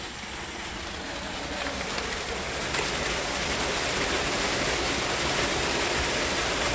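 Water from a four-inch tubewell on farmland gushes out under strong pressure, a loud steady roaring rush that fills the whole clip without a break.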